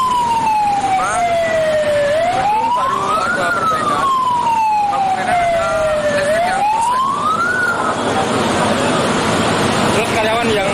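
Fire engine sirens from the Bantul fire brigade fleet responding to a factory fire wail loudly in long rising and falling sweeps, two full cycles, over rumbling traffic and engine noise nearby.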